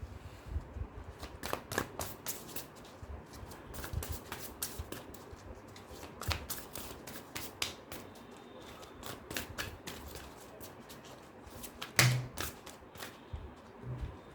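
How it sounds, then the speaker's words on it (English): Tarot cards are shuffled quietly in irregular bursts of soft riffling and tapping, with brief pauses and one sharper snap near the end. "let me just shuffle your cards"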